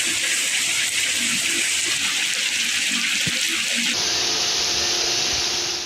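Monsoon rain and floodwater in low-lying areas rushing in a dense, continuous wash, steady and moderately loud throughout, the texture shifting slightly partway through, with no voices.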